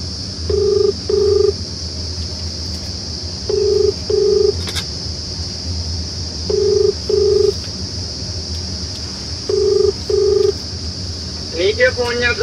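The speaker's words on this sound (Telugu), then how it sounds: "అయితే ఒకసారి కాల్ చేద్దాం వాళ్ళకి" A mobile phone keypad dialing a call, heard as four pairs of short, evenly spaced touch-tone beeps over a low background hum, followed by a brief burst of warbling ring or call-connect tones at the end.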